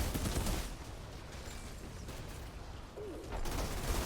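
Accurate rifle fire in the Outriders video game, Trickster class gameplay, with several bursts of rapid mechanical shots that are loud at the start and end and quieter through the middle.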